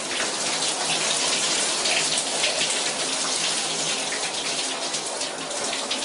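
Shower water sprays and splashes in a steady, loud, unbroken rush throughout, with no voices.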